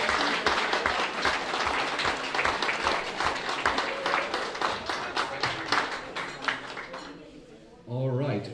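Applause from a powerlifting championship audience honoring the 83 kg class, dense steady clapping for about seven seconds, fading near the end as a voice begins to speak.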